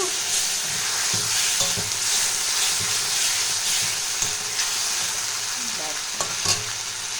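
Water poured into a hot pan sizzles and hisses steadily while katla fish curry cooks, with a constant frying crackle and occasional stirring clinks, close and fairly loud throughout with no talk.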